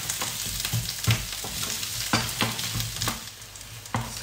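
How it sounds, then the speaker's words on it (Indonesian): Onion and garlic stir-fried in a pan with eggplant, a steady close sizzle punctuated by repeated sharp scrapes and clatters of the spatula, with no talking. "Ini kita stir fry sampai layu."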